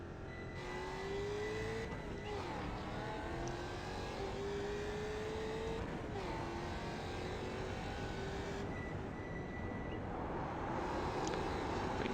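A Mustang FR500S race car engine in iRacing climbs steadily through the revs, with sharp dips at each gear shift, then pulls again in a sustained, droning tone.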